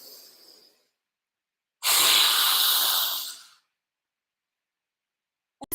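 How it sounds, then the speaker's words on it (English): A single slow inhale through the nose during a deep breathing exercise, a soft airy rush lasting under two seconds, close and alone in an otherwise silent space, preceded by a faint trailing exhale. "inhale through the nose. Exhale. Inhale."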